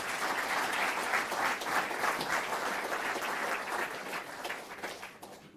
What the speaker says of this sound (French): Je vous demande d'ores et déjà d'ailleurs quelques applaudissements pour eux